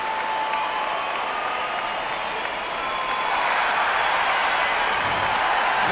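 Crowd applause and cheering fill a boxing arena in the video game Undisputed after a knockout in a Carl Froch vs Roy Jones Jr bout, a dense, steady roar that swells slightly near the end with no clear talk.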